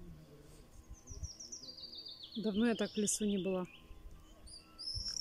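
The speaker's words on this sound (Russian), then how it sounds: "Слушаешь пение птиц, так классно." Birds sing in a forest, with a thin, high whistling phrase and a string of chirps rising over quiet woodland background while someone speaks briefly.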